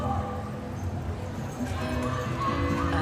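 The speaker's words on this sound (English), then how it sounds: "Oh, look at that left wheel horse bounding round there." Hooves of a carriage-driving team pulling a carriage at speed through obstacles at an FEI Driving World Cup indoor competition, heard as a continuous rapid clatter under steady arena noise and crowd ambience.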